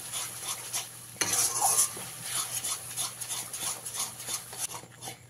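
Spice paste and onions frying in a pan while being stirred, a continuous sizzle with repeated scraping strokes and clinks of a spoon against the pan, close and clear.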